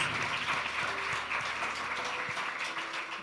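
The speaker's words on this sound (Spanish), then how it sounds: "Un fuerte aplauso al Señor" A church congregation applauds at a Spanish-language worship service, a steady wash of clapping that holds for a few seconds at moderate level, with faint murmuring and scattered louder claps in the room.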